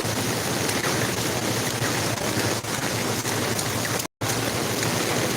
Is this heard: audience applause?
no